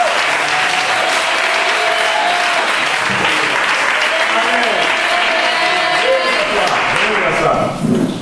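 A church congregation applauds and cheers to welcome a pastor, loud dense clapping with shouts and a sustained voice or tone running through, tapering at the very end.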